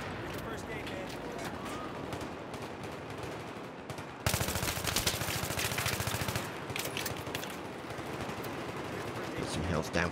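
Battlefield 3 gunfire in the Metro map, a constant clatter of automatic weapons under a busy battle din, growing louder and sharper partway through as close firing takes over.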